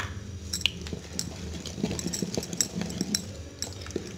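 Sour greens cooked in sesame oil with onion and garlic are mashed in a clay pot, giving soft irregular scraping and knocking strokes with occasional light clinks, close and fairly quiet with no talk.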